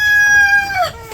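A rooster crows loudly and close by: one short, clear, falling call that trails off within about a second.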